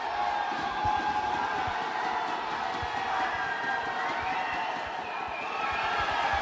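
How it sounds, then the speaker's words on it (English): A crowd of swimming fans at a 2012 Summer Games aquatics event cheers and roars continuously, a loud, distant, sustained wash of voices with scattered whoops rising above it. "You can hear the crowd going wild here."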